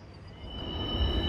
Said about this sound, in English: The train is an empty coal train.